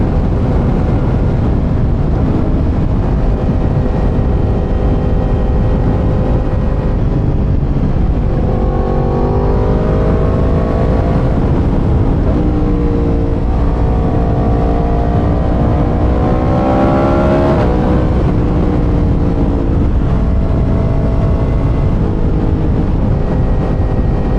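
A 2017 Yamaha MT-10 motorcycle fitted with an AliExpress Remus N-Can exhaust revs loudly and close up, its engine note holding a steady idle and then climbing and falling through several throttle blips over a constant rumble.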